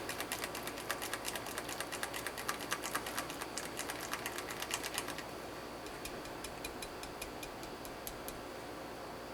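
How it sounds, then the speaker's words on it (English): A whisk beating handmade soap batter at the applesauce stage makes rapid, even ticking against the bowl, close and continuous over a soft background hiss, with no voices. "I'm just going to whisk that down."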